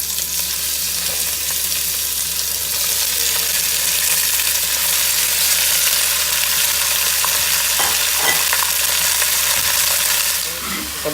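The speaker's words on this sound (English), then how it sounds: "Now I'm just going to add my gravy beef" Gravy beef sizzles steadily in a pan with olive oil, a loud, continuous frying hiss that fills the whole stretch, with faint movement near the end.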